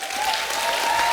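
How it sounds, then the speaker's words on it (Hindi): Studio audience on the Kapil Sharma Show applauding loudly, a thick, continuous wave of clapping with a faint steady tone running beneath it. "आप सबकी जोरदार तालियों के बीच बुलाना चाहूंगा"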